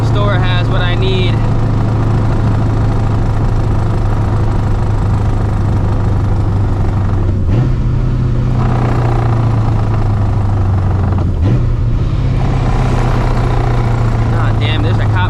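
Loud supercharged New Edge Mustang GT driving with no hood, a deep continuous engine rumble heard from inside, pitch stepping up twice as it accelerates through gears, no talking.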